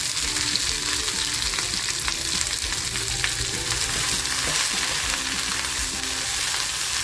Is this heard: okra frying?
yes